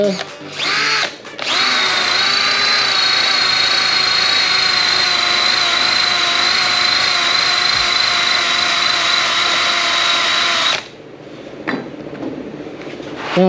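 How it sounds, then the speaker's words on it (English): A power drill fitted with a caramel wheel eraser pad strips decal adhesive from a 4x4's paint, a loud, close, steady high whine lasting about nine seconds, bracketed by short bursts and quieter handling noise. "You put it on your drill there"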